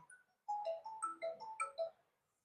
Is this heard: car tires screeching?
no